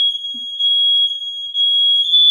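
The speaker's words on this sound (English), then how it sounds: "This is the alarm going off for the apartment, the building." A loud, steady high-pitched electronic tone from an apartment building's alarm sounds continuously, with brief dips in level and no talking.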